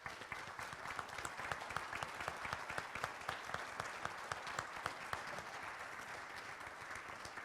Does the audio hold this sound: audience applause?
yes